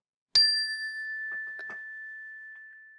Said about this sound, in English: when I sound that chime, that means to turn your attention back